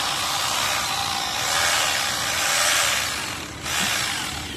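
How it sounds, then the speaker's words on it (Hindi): A power drill bores holes into concrete on a building site to seat nozzles for epoxy grouting. It runs as a steady, loud, hissing grind with a brief dip and then resumes, close up and with no talk. "तो यहाँ पे जो है हम लोग ड्रिलिंग कर रहे हैं।"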